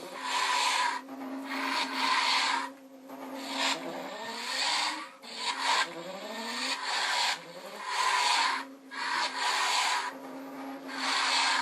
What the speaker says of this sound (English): Now as I move it around, it makes swooshing noises.